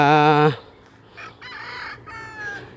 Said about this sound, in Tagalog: Ito po yung mga inahin dito